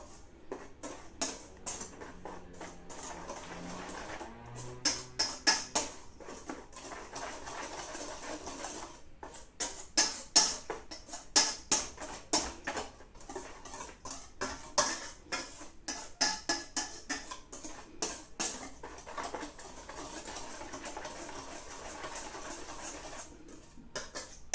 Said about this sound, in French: Et là, vous mélangez le tout.